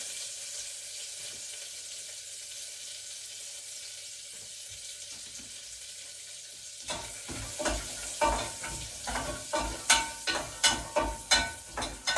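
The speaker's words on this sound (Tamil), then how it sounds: "கஜுவை போட்டு இதுக்குள்ளே வறுத்தெடுக்க போகிறேன்" Cashews roast in melted butter for javvarisi payasam, a steady soft sizzle that gives way to rhythmic scraping and stirring strokes, loud and close, with no talking.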